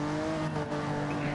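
Race cars in a Gran Turismo Gr.4 race roar past at close range, a loud steady engine drone with tire noise, sustained with no voices over the short stretch.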